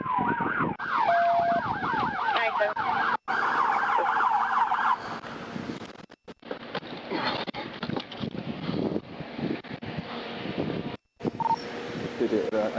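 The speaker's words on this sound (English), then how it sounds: "I already got an ambulance coming." An ambulance siren wails and yelps on a roadside at the scene of a drunk-driving police chase, loud at first and then broken up, with radio chatter and voices of officers talking throughout.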